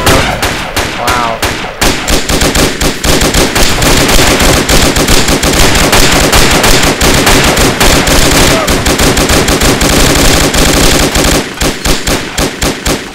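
Sustained machine gun fire in the military shooter game ARMA 2, loud rapid bursts hammering almost without pause, with short breaks near the start and end.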